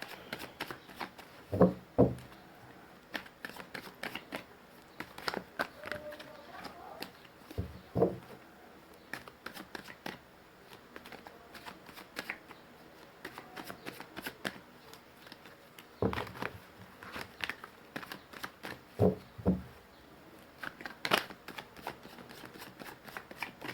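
Tarot cards shuffled by hand in bursts of riffling and patting, close and fairly quiet, with brief pauses between rounds and no talking.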